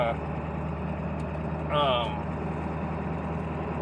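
A Ford 7.3 Powerstroke diesel truck engine idles with a rough, loping beat, a steady low rumble that runs through the whole stretch and swells briefly partway through.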